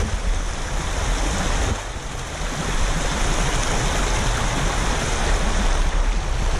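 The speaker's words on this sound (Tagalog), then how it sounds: "Tayo po tumawid sa gumakagas ng tubig." Steady rushing water of a stream being waded across outdoors in nature, a continuous broadband roar with a brief dip in the middle, loud and close throughout.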